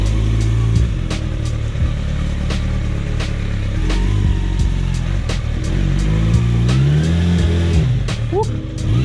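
Kawasaki Ninja ZX6R motorcycle engine idling and revving up and down close by, with a loud throaty drone and several sharp rises in pitch.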